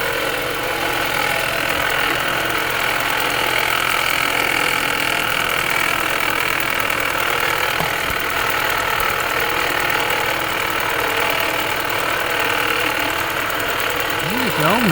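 A 2020 Ford Escape with the 1.5-liter engine runs with the air conditioning off, giving a loud, steady mechanical hum with a faint knocking undertone that holds evenly the whole time.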